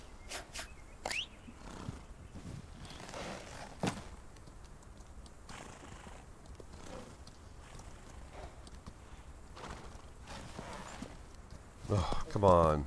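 Horse hooves clip-clop in the Outlaws of the Old West game, scattered steps and thuds at a moderate distance alongside ambient game sounds, with people chatting over the top.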